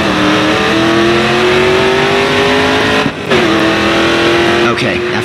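Race car engine held at full throttle in the racing video game GRID 2, a loud continuous drone with a steadily rising pitch, a brief dip near the middle as the revs drop and recover, with faint tire noise beneath.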